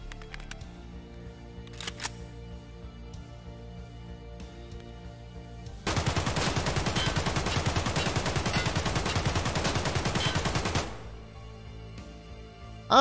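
AKS-74 rifle fired on full auto in the game Escape From Tarkov, one sustained burst of rapid, evenly spaced shots lasting about five seconds, loud and close, with quiet game ambience before and after.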